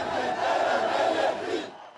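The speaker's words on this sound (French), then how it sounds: "La foule laisse éclater sa joie" A large crowd at the 2018 Armenian protests roars and cheers in a loud, sustained outdoor wall of voices that swells, then fades out abruptly near the end.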